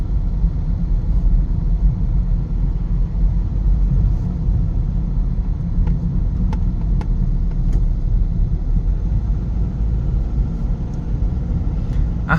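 A white car drives along a road in Waritchaphum district, Sakon Nakhon, making a loud, steady low rumble that stays close and even for the whole stretch, with no talking.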